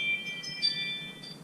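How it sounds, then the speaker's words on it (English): A triggered home alarm system emits faint, steady high-pitched electronic tones that hold throughout with slight pulsing, distant and low in level, with no voices. "that's the sound of somebody triggering my alarm."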